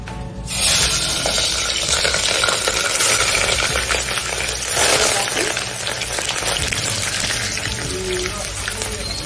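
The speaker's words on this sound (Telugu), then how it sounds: "సో ఇప్పుడు అందులోగా పచ్చిమిరపకాయలు వేద్దాం." Green chillies hit hot oil for a curry and set off a loud, dense sizzle that rolls on steadily with a crackling spatter, close by and with no talk.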